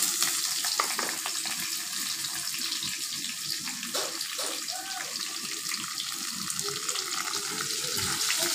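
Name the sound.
frying crushed garlic and chopped onion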